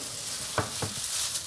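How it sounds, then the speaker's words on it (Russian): Hot oil bubbling and sizzling steadily in a pan before frying pies, with a couple of louder spits, close and continuous. "Маслечко уже накалилось."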